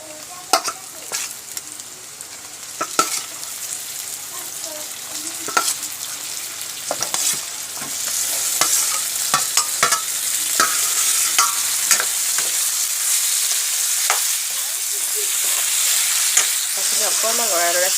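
Chicken meat frying in a pan with onions, stirred over and over, so sharp utensil scrapes and clacks come through a sizzle that grows louder and steadier as it goes.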